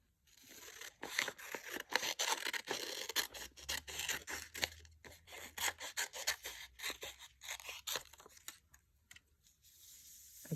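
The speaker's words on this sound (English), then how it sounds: "Try to make your scissors go right through the middle of that line." Scissors snip and rasp through paper in quick, irregular cuts, close and fairly quiet, with no talking.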